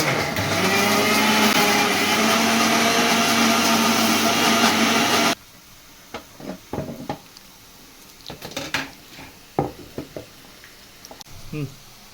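A mixer grinder loudly blends ridge gourd peel chutney for about five seconds, a steady dense whir that cuts off abruptly, followed by quieter clinks and knocks of the jar and utensils.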